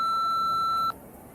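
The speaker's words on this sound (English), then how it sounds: "Please leave a message after the beep." A single steady voicemail beep tone, clean and close, holding for just under a second and then cutting off into quiet line hiss.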